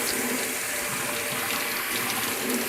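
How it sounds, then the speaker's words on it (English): Cold water from a kitchen tap pours steadily over freshly drained rotini pasta in a colander, a loud, continuous hissing splash with no voices. "I just run cold water over it,"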